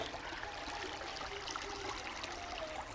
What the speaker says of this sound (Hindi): अभी ये वाले खेत में भी पानी चल रहा है।